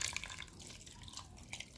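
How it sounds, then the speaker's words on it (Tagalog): A little water poured into fish paksiw cooking with olive oil, a soft continuous trickle and splash with faint drips, close by and fairly quiet. "lagyan natin ng konting tubig."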